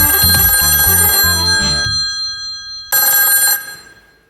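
A telephone rings with an incoming call, loud electronic ring bursts in quick rhythmic pulses, then a pause and a short further burst, close and alone.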